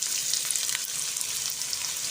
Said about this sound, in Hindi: प्याज़ों को गोल्डन ब्राउन होने तक अच्छे तरीके से फ्राई कर लेंगे